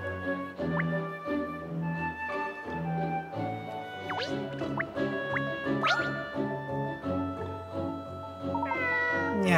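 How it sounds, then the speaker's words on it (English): A stray cat in the video game Layton's Mystery Journey meows several times in short rising calls over a looping, plucked background melody, with no talk. "Oh, a little cat! It looks like a stray."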